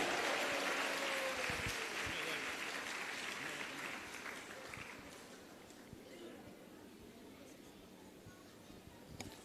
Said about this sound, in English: You can give a loud round of applause,